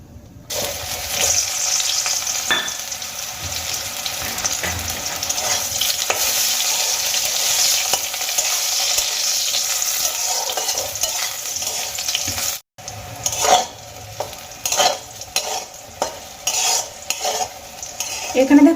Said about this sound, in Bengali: কড়াইতে যে তেলটা বেঁচে আছে তার মধ্যে আমি কিছু বেগুনের টুকরো ভেজে নেবো